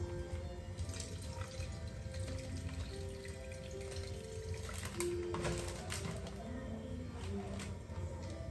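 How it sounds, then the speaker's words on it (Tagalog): Water is poured into a flower arrangement of carnations and red roses, a continuous trickling splash with faint drips, while a person talks softly underneath. "Lagyan natin siya ng tubig."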